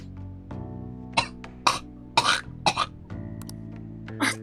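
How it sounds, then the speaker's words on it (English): A character in Persona 5 Royal coughs in a series of harsh, close bursts with throat clearing, irregularly spaced over a few seconds against a soft steady game music backdrop. "Sorry, can't seem to shake this cough."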